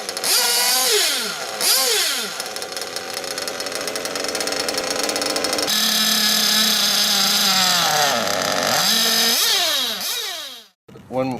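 A Kyosho nitro RC car engine starts and revs, a loud, raspy whine rising and falling in pitch through repeated bursts and long sustained runs before cutting off abruptly near the end, with a voice speaking over it.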